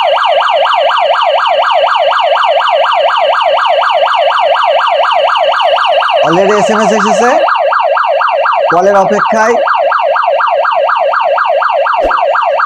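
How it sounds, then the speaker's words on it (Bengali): A GSM anti-theft security alarm sounds continuously as a loud, rapidly sweeping electronic siren, with a voice briefly speaking over it twice. "আলাদা করলাম, এই অ্যালার্ম দিচ্ছে"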